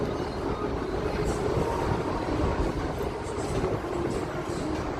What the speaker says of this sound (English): This train is so wonderful.